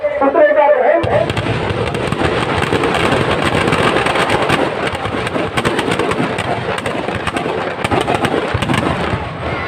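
Fireworks burst continuously during a Dussehra Ravana effigy burning before a large crowd, a dense, loud crackling and booming barrage that starts abruptly after a second and persists throughout.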